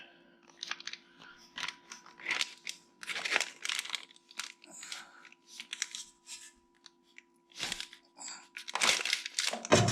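A plastic baggie is crinkled and fitted over the tail shaft of a Mustang transmission, a close, irregular series of crumpling and rustling bursts with brief pauses between them.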